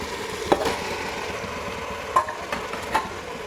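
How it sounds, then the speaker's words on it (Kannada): Chicken pieces being stirred into sizzling biryani masala in a pan, a close, steady frying hiss broken by a few scraping thumps of the spoon. "ಈಗ ಇದು ಹಾಕಿದ್ದಾದಮೇಲೆ ನಾನು ಚಿಕನ್ ಹಾಕ್ತಾ ಇದ್ದೀನಿ"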